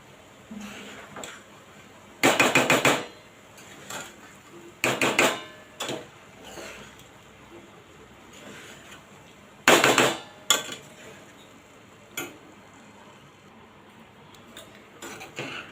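Tomato rice being stirred in a cooking pot, with several loud clattering scrapes of a spoon against the metal at irregular intervals and quieter scraping between them, no voices.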